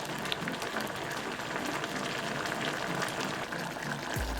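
Zucchini with salted pickled shrimp simmering in a pot on medium-low heat, a steady close bubbling and fizzing with soft pops, continuous and fairly quiet, with no talking.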